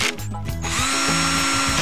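A power drill with a clutch drives screws into kitchen cabinet hardware, its motor whirring steadily with a stuttering ratchet of the clutch slipping, close and loud.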